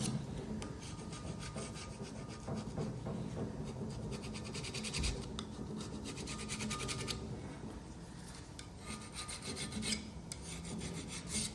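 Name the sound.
scraping clean an Allis B cylinder head surface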